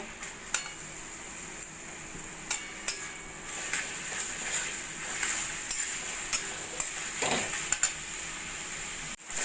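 Taro stems and jackfruit seeds being stir-fried until dry in a pan, with a soft continuous sizzle broken by sharp, scattered clinks and scrapes of a spatula against the metal, close and moderately loud, with no talk.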